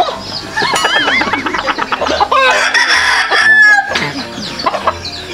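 Chickens cluck and a rooster crows up close, with loud, overlapping squawks and calls filling a short outdoor moment, no talking.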